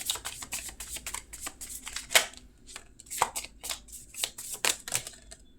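Tarot cards are shuffled by hand, a close run of crisp riffling snaps and flutters in uneven bursts as several cards slip and fall from the deck.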